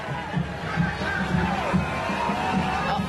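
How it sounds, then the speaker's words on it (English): A large crowd at a riot at UC Berkeley, heard as a steady outdoor murmur of many voices with a rhythmic low chant or drumming pulse, moderately loud and continuous. "there's a large crowd here"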